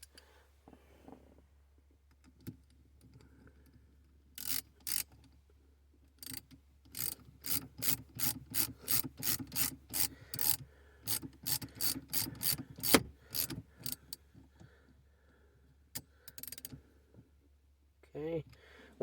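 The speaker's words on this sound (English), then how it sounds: "We're just going to reapply the nut here and tighten it." A hand ratchet tightens a nut on the shifter of a Dodge Dart GT, a long run of crisp, evenly spaced clicks close to the microphone over a low steady hum, pausing briefly partway through.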